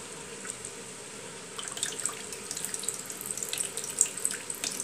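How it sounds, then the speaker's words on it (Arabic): Cold water runs from a tap over barley grits in a kitchen sink, a steady close splashing stream that grows busier with spattering drips toward the end, no talking. "بالماء بارد غنكبو عليها الماء مزيان غادي نغسلوها"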